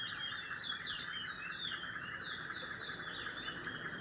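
A small bird chirps in quick repeated trills, soft and steady, over a faint hiss of background noise.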